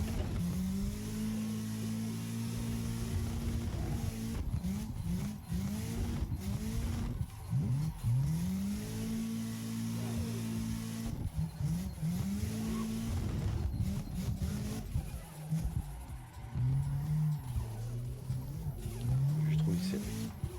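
Car in Assetto Corsa revving hard and drifting, engine note rising and falling in long sweeps while tires slide and squeal almost without pause; someone talks over it now and then.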